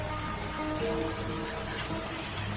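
Steady rain falls in a forest setting from a survival horror game, a constant broadband patter filling the whole stretch at even loudness with no voices over it.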